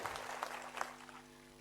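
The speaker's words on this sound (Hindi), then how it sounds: "जोरदार ताली बजाओ अपने आप के लिए भी" Crowd at a political election rally in Sindkheda clapping in a short burst of several sharp claps, fading quickly into a sustained hum.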